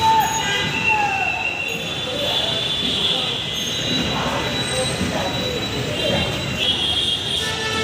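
A metro train rumbles steadily at Mirpur 10 station in Dhaka, Bangladesh, its wheels squealing in a high, sustained whine over the loud, close rolling noise.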